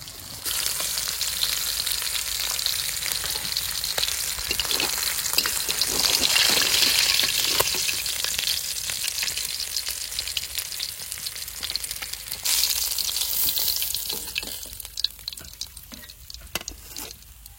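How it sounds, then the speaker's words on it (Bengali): Pieces of katla fish fry in a wok with a dense, continuous hiss and crackle, loud and close, swelling and easing with occasional stirring clatter throughout. "সব মাছ এরকম করে ভেজে নেবো।"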